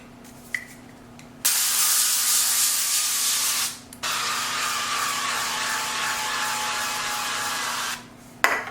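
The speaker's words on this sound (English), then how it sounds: "I am going to use the avocado oil spray for those" Avocado oil cooking spray hisses from a can in two long bursts, close and loud, with brief quiet gaps between and no voices.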